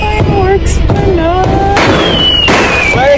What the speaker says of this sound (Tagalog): Talaga may fireworks pala.